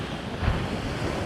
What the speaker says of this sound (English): their boat was parked no further than where these waves are crashing